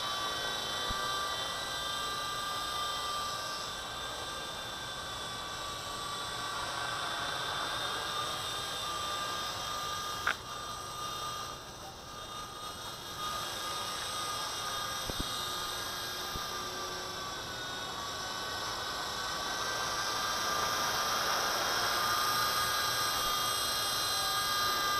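A small v913 RC helicopter hovers close by, its rotor and motor giving a steady high-pitched whine and buzz that holds for the whole stretch, slightly shifting in pitch, with no talking.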